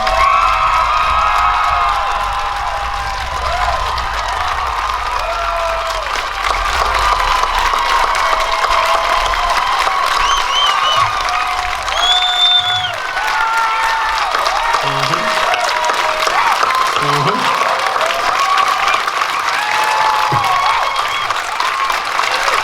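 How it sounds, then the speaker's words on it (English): A comedy-show crowd erupts in loud, sustained applause, cheers and whoops for a woman brought on stage, a dense roar of clapping and shouting that carries the whole stretch with a voice breaking through now and then. "give her the loudest round of applause in the fucking world"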